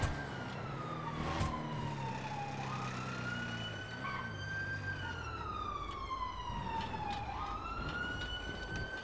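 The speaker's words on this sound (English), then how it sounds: "I'm like slightly concerned where those sirens are coming from" Wailing emergency-vehicle sirens sound from a distance in a rising and falling pattern, several tones overlapping, with faint traffic rumble beneath and no voices.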